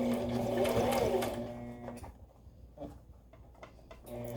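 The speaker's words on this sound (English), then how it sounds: "you're just sewing close to the edge" A sewing machine runs a long basting stitch close to a fabric edge to hold pleats in place, whirring steadily and loudly at first, then softening into quieter, uneven bursts of stitching.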